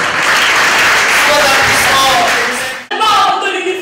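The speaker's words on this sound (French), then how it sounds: "Tous vos applaudissements, s'il vous plaît." A large audience at an excellence day celebration bursts into sustained, dense applause, loud and close, cutting off abruptly near the end before clapping picks up again.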